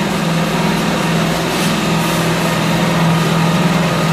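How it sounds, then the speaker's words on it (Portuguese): Lens sanding and polishing machines run in a lens factory, giving a loud, steady mechanical hum with a constant low drone and a broad whir that holds unchanged throughout, with no voices. "são feitos nessas máquinas, que nós chamamos de lixadeiras e polidoras"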